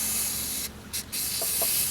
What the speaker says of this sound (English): I'm going to spray a little bit in there